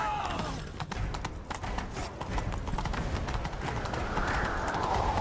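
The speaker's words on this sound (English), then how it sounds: "Grab a horse, we'll chase him down." Hooves clatter in a fast, continuous galloping rhythm in The Witcher 3: Wild Hunt, loud and close, with a faint whinny-like rise near the end.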